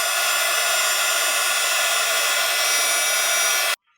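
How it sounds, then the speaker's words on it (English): Heat gun blowing steadily on an acrylic pour painting with gold flakes, a loud continuous hot-air roar that lasts several seconds, then cuts off abruptly. "I'm just gonna take my heat gun to it"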